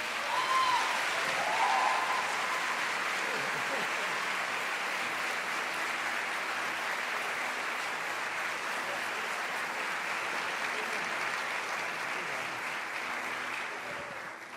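Church congregation applauds in praise, with sustained, even, dense clapping from many people lasting throughout and tapering off slightly at the end, with faint voices early on.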